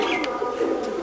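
A long-bodied racing pigeon coos softly in a single continuous low murmur, close by, with faint background voices.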